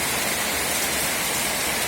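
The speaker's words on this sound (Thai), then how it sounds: "ฝนตกหนักแล้วครับตีห้า ตกแต่ตีสี่กว่ากว่าเลย" Heavy rain pouring at about five in the morning, a dense, unbroken hiss of rainfall on surfaces, loud and steady with no voices.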